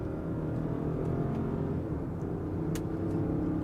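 A 2023 Range Rover P530 engine pulls through its upshifts, a steady muffled rumble and whir heard from inside the cabin at moderate level, with no talking.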